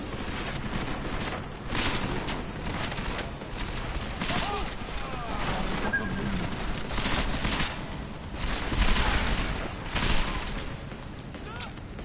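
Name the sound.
gunshots in the video game Deus Ex: Mankind Divided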